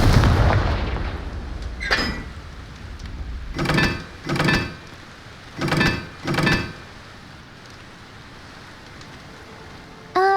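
Confringo fire spell blasts in the Hogwarts Legacy video game, heard as about six sharp booming bursts, some in quick pairs, over a low rumbling background.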